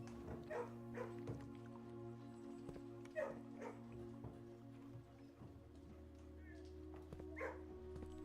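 A dog in the video game Blue Prince gives several short barks and yips spread through the stretch, set against a steady game soundtrack drone.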